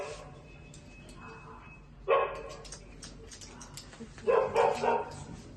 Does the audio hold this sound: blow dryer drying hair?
no